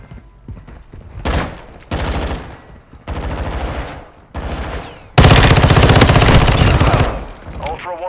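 Loud automatic gunfire in the Call of Duty Modern Warfare II video game comes in repeated rapid bursts separated by short gaps, ending in one long sustained volley, with game voices heard between the shots.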